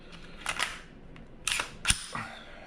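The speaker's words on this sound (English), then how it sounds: "Put your barrel and recoil spring guide rod back in" A Glock 34 pistol being reassembled, with the barrel and recoil spring guide rod put back in, heard as a few close, sharp metallic clicks and sliding scrapes in brief separate bursts with no talking.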